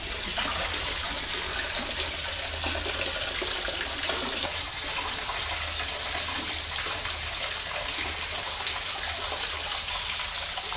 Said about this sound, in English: The water's coming from the ceiling